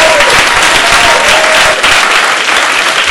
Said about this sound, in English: Give a round of applause to Shelley Berman